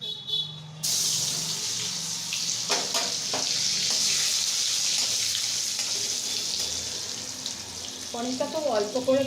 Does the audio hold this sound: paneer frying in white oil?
yes